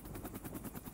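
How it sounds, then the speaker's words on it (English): A military helicopter arriving in Timbiquí, Colombia, its rotor blades thudding in a fast, even pulse, fairly distant and steady for the whole second. "A military helicopter is arriving with the first vaccines"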